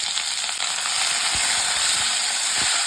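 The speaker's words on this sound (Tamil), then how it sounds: "இது கூடவே தக்காளியும் சேர்த்து வதக்கிக்கலாம்." Onions and tomatoes with chillies and curry leaves sautéing in a hot pan, a steady close hiss of sizzling with a few soft stirring clicks, no voices.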